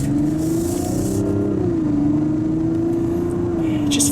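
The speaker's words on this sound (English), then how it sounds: "the inline 6-cylinder turbocharged, it has a nice exhaust note" Mazda CX-90 with a turbocharged inline six-cylinder engine accelerating in sport mode, a steady droning engine and exhaust note rising and falling slightly in pitch, loud and continuous from inside the cabin.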